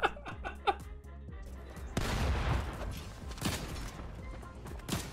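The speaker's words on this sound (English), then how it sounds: "Bro got scared and shot him immediately." Gunfire in the game Fortnite: a burst of sharp shots opens the clip, followed by a louder, denser stretch of rapid firing and impacts that continues to the end.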